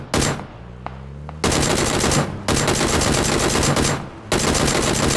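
Machine gun fire in the battle royale game PUBG, loud sustained automatic bursts in three long strings separated by short gaps, with a low vehicle engine hum audible between them.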